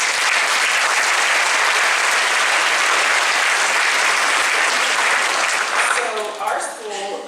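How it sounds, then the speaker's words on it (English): A convocation audience applauding, a dense, loud wash of many hands clapping that holds steady for several seconds before thinning out, with voices emerging faintly toward the end. "And I want you to give them another round of applause,"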